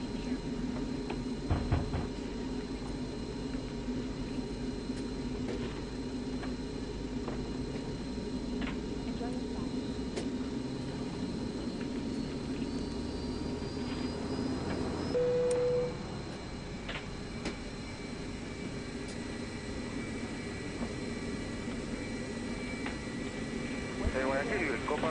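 A Boeing 737-800 in the FS2004 flight simulator spools up its number two jet engine, a steady cabin-like roar that gains a rising whine partway through and continues at an even level.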